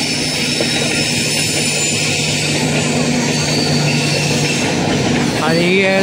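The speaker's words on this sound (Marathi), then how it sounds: "आणि ही रत्नागिरीवरनं ट्रेन येते" Ratnagiri–Diva train pulling into a station, with loud continuous rumble and rolling wheel noise close by and a rising squeal toward the end.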